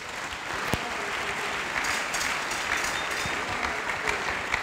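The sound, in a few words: congregation applauding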